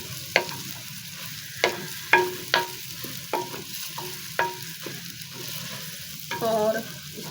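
Potatoes and okra fry with green chillies, ginger and garlic in a pan, giving a soft sizzle that is broken up by sharp scraping clatters as a spoon stirs the mix every second or so.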